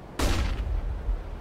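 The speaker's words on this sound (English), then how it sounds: "I'm throwing a flashbang." In Counter-Strike: Global Offensive on Dust2, a single sharp flashbang pop bursts out loud and close, leaving a short ringing tail.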